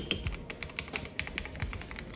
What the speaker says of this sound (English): Got the NZXT Function Elite keyboard, really good.